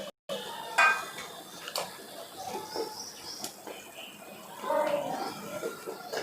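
Noodles go into a pan with light clinks and scrapes of metal and cookware, a few sharp knocks among soft rustling, with faint bird chirps in the background.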